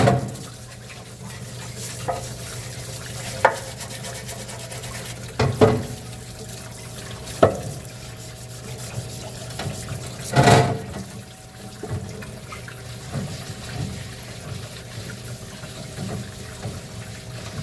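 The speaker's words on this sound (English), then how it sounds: "We're going to clean up our valve cover in the parts washer" Running liquid and brushing in a shop parts washer while a Mercedes valve cover is cleaned, a steady wash with occasional sharp scrubbing knocks and splashes at close range.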